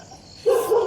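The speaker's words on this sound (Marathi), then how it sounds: "त्याला कुत्रा भुकला." A single dog bark, short and fairly close, sounds abruptly after a quiet stretch of outdoor background.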